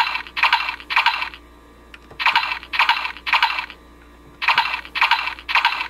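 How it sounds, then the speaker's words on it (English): A CSM Kabuto Zecter toy in Henshin form gives a repeated electronic chirp effect after each button press. Three groups of three rapid bursts sound close, with small clicks between them. "they do those sounds, no matter how many times you press them"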